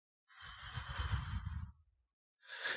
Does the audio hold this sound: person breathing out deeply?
yes